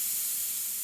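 An airbrush spraying Createx Illustration paint onto Blair synthetic paper, a steady soft hiss of air and fine spray, close and continuous for under a second.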